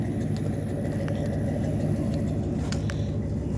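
A car with an LT1 engine and new transmission runs with a steady, loud, deep rumble close by, a continuous idle-like throb with no one talking.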